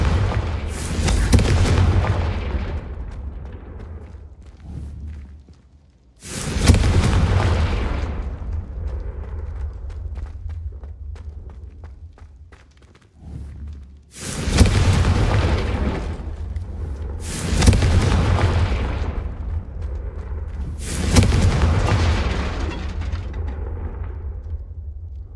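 Confringo explosion spells in Hogwarts Legacy go off as five heavy booming blasts, each one sudden and loud, then rumbling away into a long decaying tail before the next.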